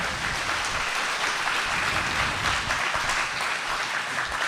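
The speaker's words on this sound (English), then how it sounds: "All right, everyone, Tristan Zapp, put your hands together." Sustained applause from a live debate audience, a dense, even wash of many hands clapping throughout, fairly loud and close.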